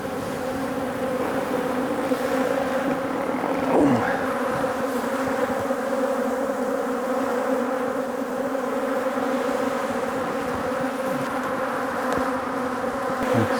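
Dense, steady buzzing of a large mass of honeybees shaken out in front of a row of hives, a continuous close drone with no voices.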